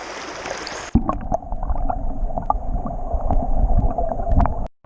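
A creek runs past a backpacking campsite on a fall trail in Pennsylvania, its water gurgling and splashing steadily close by after a brief gust of wind noise at the start.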